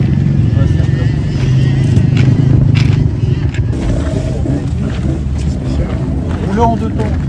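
A Honda 500 CR two-stroke motorcycle engine idles with a steady, close, low rumbling drone that carries on throughout, while someone talks over it.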